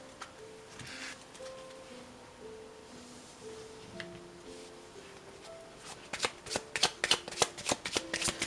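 Ancient tarot cards are shuffled close up, starting with soft riffling beneath a faint background tone and building toward the end into a quick series of sharp, crisp card flicks.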